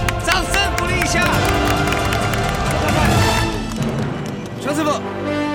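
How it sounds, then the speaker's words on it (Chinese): Audience applause and cheering break out at a televised food segment, where a man with an iron palm stir-fries by hand in hot oil. The dense crowd noise is mixed with music and voices. "掌声鼓励一下"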